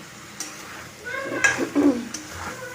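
A spoon stirs and sautés fried fish in a hot pan, giving a few soft scrapes over a low sizzle, fairly close, as someone speaks quietly alongside.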